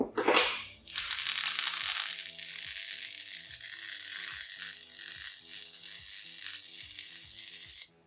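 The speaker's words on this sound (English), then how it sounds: "Right, I'll run that weld there." Welding a root weld on a repaired Land Rover chassis dumb iron: a steady, loud, dense crackling hiss that runs for about seven seconds after a short initial burst and a brief gap, with no talking.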